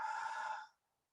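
A single close exhale during a seated chair Pilates exercise, a smooth breathy rush lasting just over half a second before cutting off into silence.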